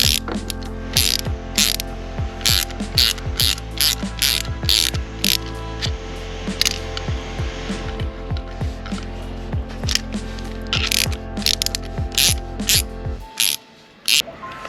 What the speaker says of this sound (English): And now we have to take out the last bolt, the 8mm, with this spanner